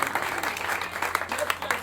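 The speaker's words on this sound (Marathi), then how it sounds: "तर एकदा टाळ्या" Brief burst of audience clapping at a temple gathering for Ram Navami, moderately loud and dense, lasting under two seconds.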